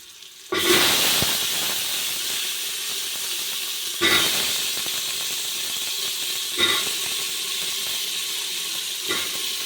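Eggplant pieces frying in hot oil with onions, a steady loud sizzle that starts abruptly and swells again in fresh bursts as more pieces hit the pan, with no talking.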